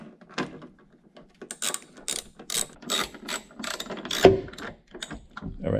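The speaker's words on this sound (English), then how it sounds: "Take my little socket wrench." A small socket wrench ratchets screws into a 2014 Subaru Forester rear hatch during a lift support replacement, giving bursts of quick clicking pawl strokes with brief pauses and one sharp knock near the end, close and clear.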